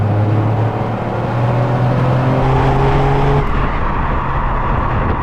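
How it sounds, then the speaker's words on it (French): A Toyota Yaris GR's turbocharged engine pulls hard under acceleration, a loud in-car drone with rising tonal whine and a gear-change drop midway, continuous and without talk. "On entend bien le turbo à l'avant."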